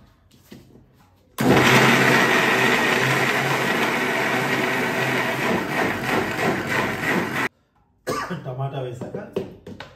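A kitchen mixer grinder runs loud and close for several seconds grinding tamarind and tomato, a steady harsh whir that stops abruptly and starts again briefly, with a voice before it.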